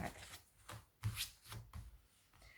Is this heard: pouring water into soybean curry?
no